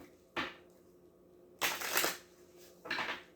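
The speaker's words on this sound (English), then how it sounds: "One more shuffle. I'll pull a card." Tarot cards are shuffled in three bursts of crisp riffling and flapping, each short, close and fairly loud against a quiet room, with no talk.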